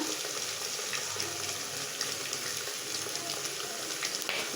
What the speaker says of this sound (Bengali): এই যে এখানে আমি পেস্টটা দিয়ে দিলাম আর আমার পেস্টটা ভাজা হয়ে গেলে